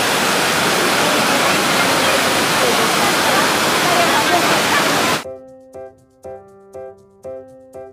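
Hong Mayor Waterfalls in Sulu, a small but powerful falls: a steady, loud, broadband rush of falling water for about five seconds, then an abrupt cut to quiet, evenly spaced tonal notes.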